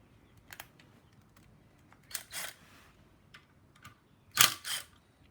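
A ratchet wrench works the clutch bolts on a Suzuki LS650 motorcycle, with a few brief, sharp clicking bursts spaced out in a quiet workshop, close but not loud.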